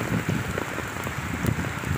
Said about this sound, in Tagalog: Ulan kayo, guys.